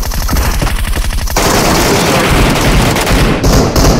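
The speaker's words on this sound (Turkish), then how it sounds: "Adam bomba atar atıyor." A grenade goes off in the shooter PUBG Metro Royale, with a sharp burst at about a second and a half giving way to dense, loud, crackling blast noise and rapid popping that runs on to the end.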